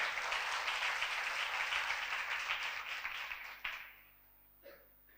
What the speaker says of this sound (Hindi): ताली बजाएं कलाम के लिए।